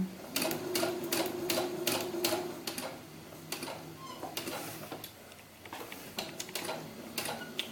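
A sewing machine runs a gathering stitch on a doll-sized ball gown sleeve, giving quick, close, rhythmic ticking bursts of needle clatter that stop and restart.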